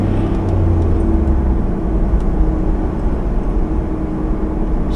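Mitsubishi 3000GT engine held at about 6,000 RPM, a loud, steady, close droning roar with little change in pitch across the whole stretch.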